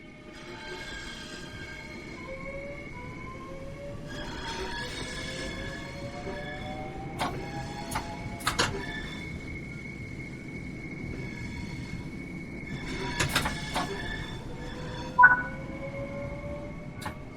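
A Class 465 Networker electric train in Train Sim World 3 runs steadily, its traction motors whining in rising and falling tones over a constant rumble, with a few sharp clanks and squeaks along the way.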